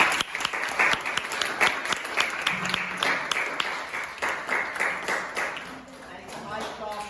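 Students and visitors at a seventh-grade school Sukkah fair give a round of applause, scattered lively clapping of moderate loudness that thins out toward the end, with voices talking underneath.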